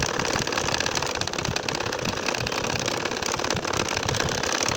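A sewing machine stitches a nakshi kantha quilt in a fast, continuous, buzzing chatter of needle strokes, close and steady throughout with no talk.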